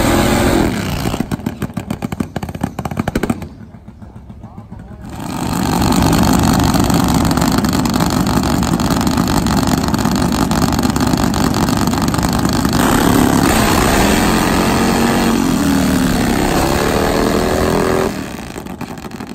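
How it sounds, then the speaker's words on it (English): Top fuel nitro Harley drag bikes doing burnouts at a drag strip, a loud, harsh sustained engine roar that briefly drops away, then returns at full force for a long stretch before easing off at the end. "Wanted to focus in and show you the burnouts."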